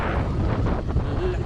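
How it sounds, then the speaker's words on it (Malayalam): Strong wind buffets the microphone beside a dusty roadside on the NH 66 Attingal bypass widening works, a steady loud rumbling roar with no break. "നല്ല കാറ്റ്."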